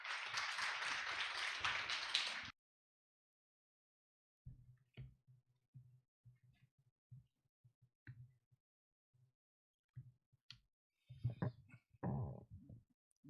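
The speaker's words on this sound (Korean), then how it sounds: "뜨거운 박수로 맞이해 주시면 고맙겠습니다" Audience at an academic forum on health functional foods claps for an incoming presenter: a dense burst of applause for about two seconds that stops abruptly, then only scattered soft knocks and shuffling.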